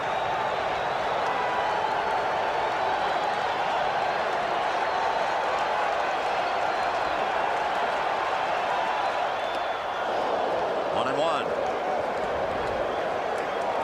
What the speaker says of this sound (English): if you like crowd noise, if it does something to you, you come to the right place